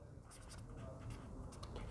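A pen scratches out a result in a maths lesson on integrals, making soft short writing strokes at low level under a speaking voice.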